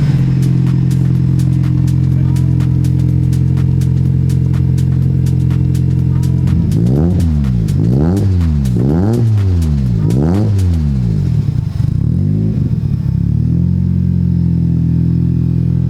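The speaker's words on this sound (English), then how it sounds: "This car sat for like 2 months and then just cranked right over." A tuned car engine idles steadily after a cold start, having sat unused for two months. It is loud and close, with a short run of quick revs in the middle before it settles back to a rough, even idle.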